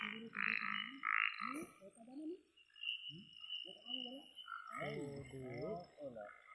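Frogs croak in a night-time forest where bait is being gathered for snakehead fishing: loud, close, repeated throaty calls in uneven bursts, overlapping one another with faint insect buzz behind.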